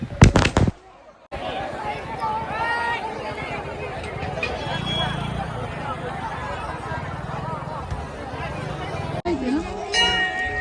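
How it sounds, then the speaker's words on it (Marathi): Crackling firecrackers and fireworks burst at a village temple fair at Jamb, a dense run of pops and crackles over crowd chatter and voices, with a couple of sharp bangs at the start. "तेव्हाच फटाके वगैरे लावून मस्तपैकी आतिषबाजी झालेली आहे"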